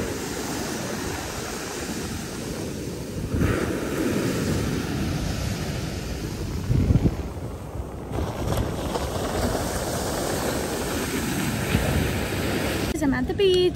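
Continuous surf and gusting wind on an Outer Banks beach with cold water, a steady rushing wash that swells and fades without letting up, loud and close throughout.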